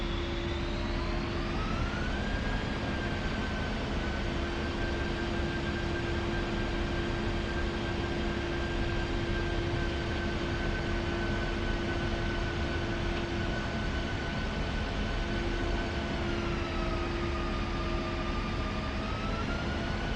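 An A-10C II jet taxis in a flight simulator game: a loud, steady engine drone with a high whine holds throughout, its pitch rising early and dipping near the end, with no talk.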